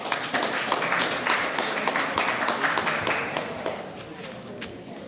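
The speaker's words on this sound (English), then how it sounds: "Now, please, a round of applause for her." Clapping from an audience at a business summit gala and awards night, fairly loud and continuous, thinning slightly toward the end, with faint voices mixed in.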